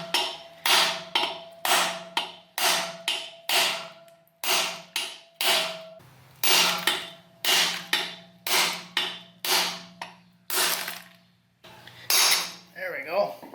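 Hammer strikes on a bushing driver knocking out the front seal of a narrowed Ford 8.8 differential, a dozen or more sharp metallic bangs in an even rhythm with ringing decay, close and loud.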